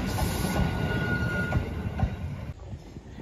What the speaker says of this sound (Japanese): 豊浜駅12時53分着高松行き2両編成です。